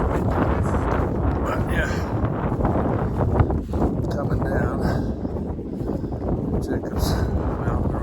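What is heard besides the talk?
wind blowing into the microphone on a mountain trail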